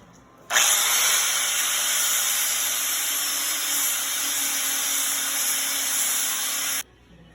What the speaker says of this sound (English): is now going to grind around our peg so the weld sticks better, and the end so it's not as sharp